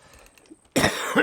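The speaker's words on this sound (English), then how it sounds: "I didn't mean to cough in your ear." One sharp, close cough bursts out after a quiet moment, followed by a smaller second cough.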